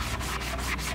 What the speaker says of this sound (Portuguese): Terminando de esfregar